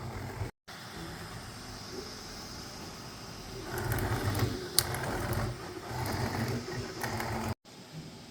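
A V400 3D printer works nearby, its stepper motors giving a quiet, shifting mechanical hum with faint clicks and whirs that grow busier midway, with two brief dropouts.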